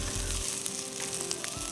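Onions frying in oil in a non-stick pan give a steady, close, loud sizzle with small crackles throughout, and no voices.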